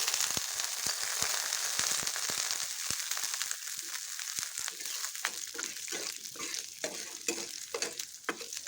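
Oil sizzles loudly as whole garlic, whole onion, cloves, cinnamon and cardamom fry, punctuated by sharp crackles and pops, with stirring scrapes growing more frequent toward the end.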